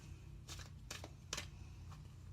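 Tarot cards are shuffled by hand in a few quick, soft riffling bursts separated by short pauses, faint and close against a quiet room.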